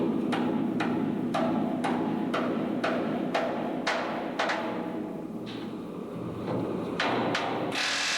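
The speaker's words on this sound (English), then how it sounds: "A team of 4 men heated, positioned, and pounded into place each rivet." A crew pounds hot rivets into the tender of a steam locomotive during restoration, a steady series of sharp metallic hammer blows repeating roughly every half second over a low workshop background.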